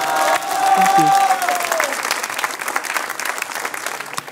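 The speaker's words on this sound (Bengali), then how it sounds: "সবাই জোরে একটা তালি দাও" An audience claps loudly for a Bangladeshi band's new album at a live talk show, a dense burst of applause with some cheering. A voice is heard at the start, and the clapping then continues steadily and slowly eases off.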